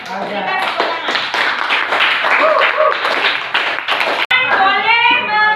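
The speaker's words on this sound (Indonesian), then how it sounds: "Berikan tepuk tangan." High school students applaud in a classroom with steady clapping throughout, as a voice talks over it before the clapping tails off near the end.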